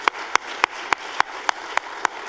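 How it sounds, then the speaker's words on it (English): Sparse, slow applause from a small audience at a coding school demo day: single claps land in a steady rhythm, about eight in two seconds, crisp and fairly close with no voices. "let's just give them a round of applause again"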